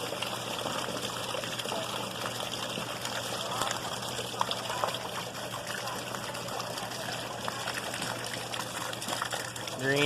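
Rainwater overflowing a house gutter during heavy, cold rain and spilling down into a driveway, a steady broadband rush and trickle that runs continuously throughout, fairly close, with no talking.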